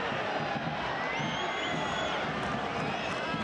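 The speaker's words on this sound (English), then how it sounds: "Thanks to the delight of the crowd here in Montilivi." A packed football stadium crowd at Montilivi cheers and roars steadily, a dense continuous wall of noise with scattered whistles and shouts rising above it throughout.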